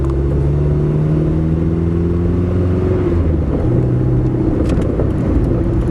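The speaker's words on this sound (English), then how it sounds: "Idle's good. Takes right off. No accelerator pump on that carburetor." A carbureted engine with no accelerator pump on the carburetor, idling loud and close with a steady rumble, then pulling away smoothly as revs rise.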